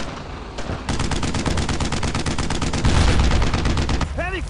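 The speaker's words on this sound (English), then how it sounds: "Heavy fire, check him out." Heavy machine-gun fire in the World War II shooter Brothers in Arms, a dense rapid burst of loud close shots rattling continuously for several seconds, with a brief rising whine near the end.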